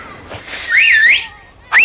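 A person whistles to call a dog: loud, close, sweeping rising-and-falling notes in one long phrase, then a brief second whistle starting after a short pause.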